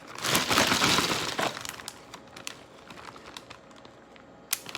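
Bagged ice cubes from a Frigidaire 40 lb countertop ice machine being broken apart, a loud crunching, clattering burst of cracking ice up front followed by scattered fainter knocks and one sharp crack near the end.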